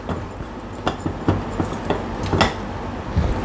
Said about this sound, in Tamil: சும்மா 1 நிமிஷம் போல் கிளறி அடுப்பை விட்டு நம்ம இறக்கிடலாம்